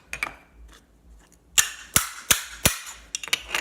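A Maritime Tribal wooden cymbal is struck several times, giving sharp, bright, splashy hits with short washy decays, the loudest ones clustered near the end and spaced roughly a third of a second apart.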